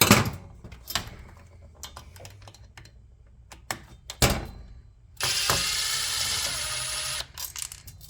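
Screws are removed from a Mr Heater Little Buddy portable propane heater, giving scattered light clicks and ticks of a screwdriver working, then a steady whirring burst for a couple of seconds before more clicks.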